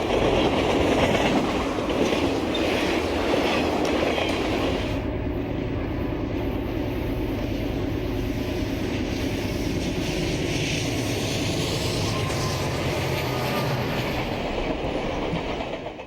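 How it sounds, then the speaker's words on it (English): A westbound freight train led by a GP35U diesel locomotive rolls swiftly through Pinole on the Santa Fe Valley Division, a loud continuous rumble with wheel clatter that eases slightly after the first few seconds and persists to the end. "Another westbound swiftly makes its way through Pinole with a GP35U on the point."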